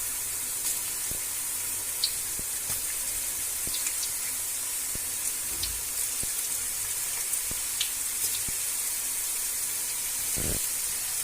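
Grated potato chips dropped into hot oil over a wood-fired stove, a continuous hiss of frying with scattered pops and crackles, fairly close, no voices.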